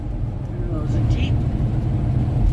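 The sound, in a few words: vehicle interior driving on the Taylor Highway, Alaska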